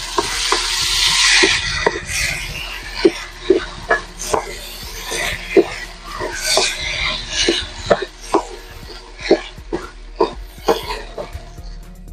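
Onion leeks tossed into a hot pan for a cheap Filipino home-cooked dish give off a close sizzle, with a string of sharp, regular scrapes and knocks as a utensil stirs them, about one every half second to second.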